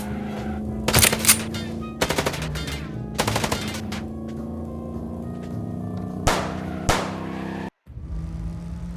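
Rapid bursts of video-game gunfire from Chicken Police, several loud volleys of machine-gun-like shots spaced through the scene over a steady engine drone, with a brief dropout near the end.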